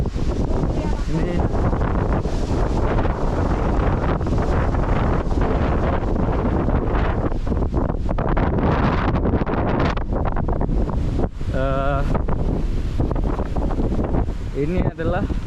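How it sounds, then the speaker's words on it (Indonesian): Strong wind buffets the microphone without letup at an old Roman-era settlement site in Indonesia, a loud steady roar that rumbles throughout, with brief faint chirps near the end. "Anginnya kencang banget."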